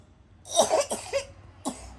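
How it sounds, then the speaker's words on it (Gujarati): A quick run of several coughs close by, then one more cough after a short pause. "ઉધરસ આવી તો જો"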